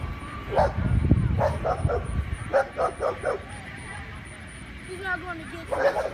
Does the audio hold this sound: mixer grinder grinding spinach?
no